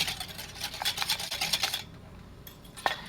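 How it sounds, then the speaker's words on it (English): Eggs whisked in a bowl for an omelette, a quick rhythmic scraping and rubbing of the whisk against the bowl that is fairly soft and close, stopping partway with a single clink near the end. "just keep whisking your egg"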